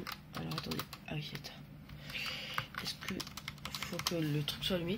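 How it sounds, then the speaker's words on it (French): Keys clatter on a computer keyboard in a PC setup, quick irregular clicks running through the clip beneath someone speaking French close to the mic. "Pareil pour le clavier les gars, je vous l'allume."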